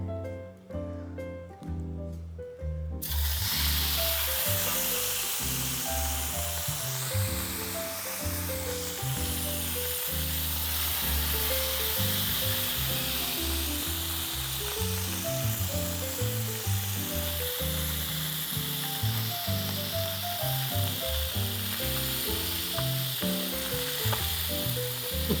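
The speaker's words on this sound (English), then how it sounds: "we wanna sear the bottom of the salmon." Salmon sears skin-side down in a hot pan over medium heat, a steady broad sizzle starting a few seconds in and holding to the end beneath prominent background music.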